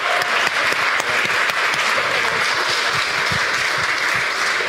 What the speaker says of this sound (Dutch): Geef ze een ontzettend hartelijk applaus.